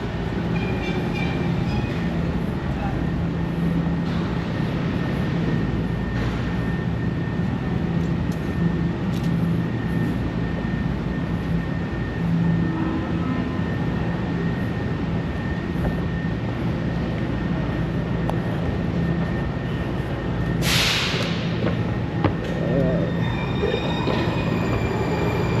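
A metro train passing through a station near Washington DC makes a steady, loud rumble and wheel roar for almost half a minute, with a brief high squeal near the end and no voices.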